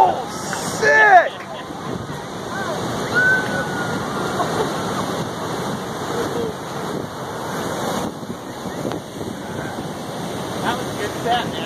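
Ocean waves crashing on a San Diego beach, a continuous loud wash of surf and wind roar close to the microphone, with excited voices talking briefly at the start.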